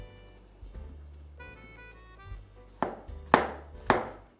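Kitchen knife cutting a mushroom on a board: a few quiet taps first, then three sharper chopping knocks spaced about half a second apart, close and clear over faint background hum.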